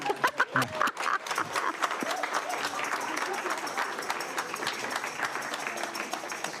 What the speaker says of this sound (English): Can we all thank our panelists with one more round of applause?